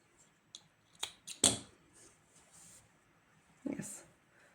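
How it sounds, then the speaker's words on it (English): Scissors snip through yarn while crocheting a gingerbread man appliqué, giving a few short, quiet close-up cuts spread over a few seconds, with a louder snip near the middle and another toward the end. "this kind of yarn I cut"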